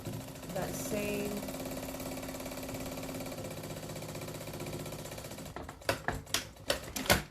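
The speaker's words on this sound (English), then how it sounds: "So I'm basically just stitching down" A sewing machine stitches down a quilt seam on a stained glass window quilt, running in a steady rapid mechanical rhythm for several seconds before switching to a few separate clacking bursts, with a voice talking over it.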